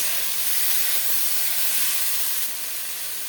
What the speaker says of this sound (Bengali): দিয়ে দেবো কেটে রাখা ঝিঙেটা, ঝিঙে দিয়ে ভাজবো।